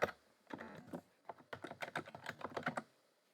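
Rapid keystrokes on a computer keyboard as a sudo curl command is typed into a terminal, an uneven run of close, crisp clicks in short bursts with brief pauses between them.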